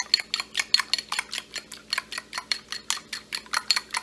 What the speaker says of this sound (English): So if you use a fork, just poke all the eggs like this